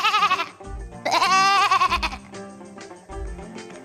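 A person vocally imitates a bleating goat of the Montserratina breed, giving a few loud, wavering bleats in bursts with short pauses between them. The calls are close and come with no accompanying speech.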